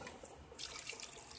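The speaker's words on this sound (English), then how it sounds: "and add some water to boil it." Water pours into a pot of channa (chickpeas) for boiling, a faint, short, steady splashing trickle that brightens halfway through, with no voices.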